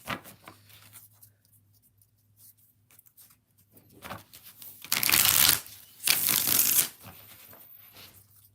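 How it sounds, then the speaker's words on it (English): Tarot cards being riffled and shuffled in two loud bursts of dense papery flutter, preceded by quieter card handling and a low steady hum, with no talking. "one more shuffle"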